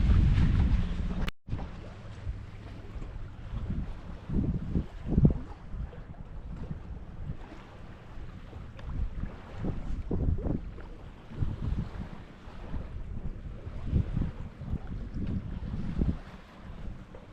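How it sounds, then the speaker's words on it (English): A sailboat running almost dead downwind from Beaver Island toward Mackinac Island on Lake Michigan, with steady wind rush on the microphone and soft water washing along the hull throughout, no voices. "lazily sailing along. The wind has veered a little bit."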